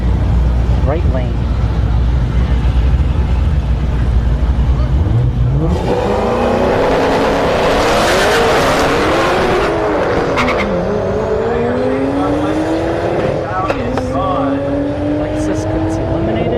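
Drag racing cars, a Lexus among them, launch down a no-prep strip at Orlando Speed World, engines roaring loudly with rising revs and tire squeal, a commentator talking over the action.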